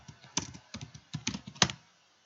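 Search term typed on a computer keyboard, a quick run of close, crisp key taps in short clusters with brief pauses, ending in one sharper press.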